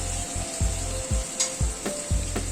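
Pointed gourd bubbles in a yogurt and poppy seed gravy, giving a soft steady sizzle with several brief stirring scrapes at regular intervals, close and quiet.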